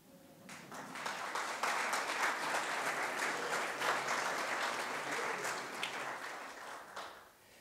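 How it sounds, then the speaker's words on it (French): An audience at a French talk on regenerative business breaks into sustained applause, dense clapping that swells quickly and holds for several seconds before tapering off. "Vous pouvez vous applaudir."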